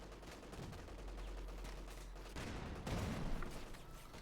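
Panzer IV tank gunfire during a Company of Heroes 2 battle, a dense stretch of rattling shots and blasts over a constant low rumble, growing louder and heavier near the end.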